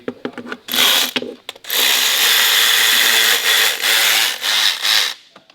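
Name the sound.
power tool tightening Volkswagen TSI timing cover bolts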